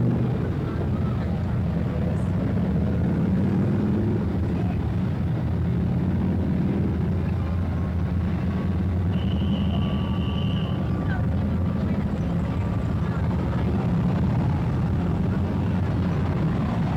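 Motorcycles with flag insignias on their rear fenders rev their engines at a 1995 Mound City Days parade, a steady loud low rumble that runs continuously with outdoor crowd ambience and no clear talk.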